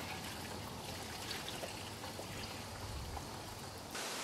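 Old gasoline drains from the base of an engine on a 1981 Suzuki GS450L motorcycle. It runs as a steady close trickle and splash that stops abruptly near the end.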